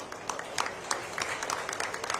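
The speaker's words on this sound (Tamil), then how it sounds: "ஸோ ஒரு பெரிய கைத்தட்டல் அவங்களுக்கு கொடுத்து" Faint audience applause for members of the Makkal Medai organisation, a brief patter of many hands clapping at a distance.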